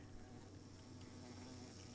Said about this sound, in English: Oh, that's a sponge bee